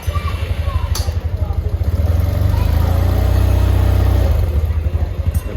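A Yamaha TMAX 500cc scooter with a charging system failure starts up without a jump start and settles into a close, steady, pulsing idle, with a brief sharp click near the start.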